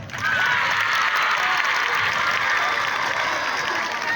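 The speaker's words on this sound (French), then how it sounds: "applaudissez-vous" Students at a school welcome ceremony for new pupils burst into loud, sustained applause with a faint undertone of cheering, the clapping rising quickly and holding steady.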